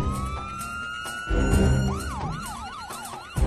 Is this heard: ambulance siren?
yes